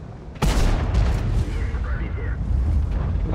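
A single heavy tank cannon blast in World of Tanks booms suddenly and loudly, then rolls into a rumbling tail, while someone talks over the top.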